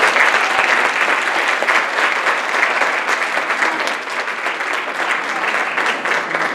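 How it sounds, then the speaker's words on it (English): An audience at a countywide arts festival gives a loud, sustained round of applause, many hands clapping steadily and close for several seconds without a break. "I think that deserves a round of applause."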